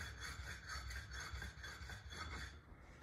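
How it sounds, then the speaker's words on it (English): A diamond resin sharpening stone has its end chamfered with steady back-and-forth rubbing strokes, a close, continuous gritty rasping that keeps an even rhythm before easing off near the end. "I'm just gonna chamfer the end of my stone here."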